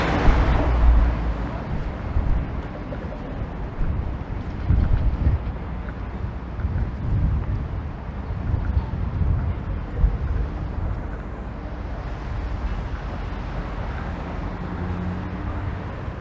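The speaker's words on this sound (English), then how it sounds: "It is windy." Wind gusting outdoors on a Toronto city street in November, buffeting the microphone with a low rumbling roar that swells and eases, with faint traffic underneath.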